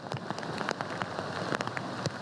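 Steady rain pattering on a hard surface, dense drops with occasional louder splats, constant and fairly close.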